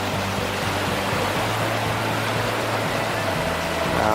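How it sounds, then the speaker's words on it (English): A creek running fast with snowmelt gives a continuous broadband rush close to the listener, steady and loud throughout with no voices over it. "Here's another close-up of that creek I was just talking about."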